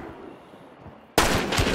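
A loud burst of gunfire erupts suddenly about two-thirds of the way in during a Hunt: Showdown PvP match. It follows a stretch of quiet, low ambient rumble.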